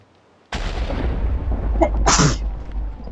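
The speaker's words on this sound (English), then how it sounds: "I had to sneeze again" A single sharp sneeze bursts out, close and loud, after a quiet start and over a steady low hum.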